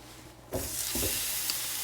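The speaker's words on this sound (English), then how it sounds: "Now we're going to sear all sides of the Boston butt" Pork Boston butt hitting a hot skillet to sear, a sudden loud sizzle that bursts in and holds as a steady bright hiss, with a couple of soft clunks.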